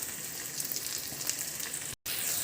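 Spice paste with turmeric fries steadily in hot oil for khichuri, a dense, even sizzle and crackle close up, broken by a split-second gap near the end.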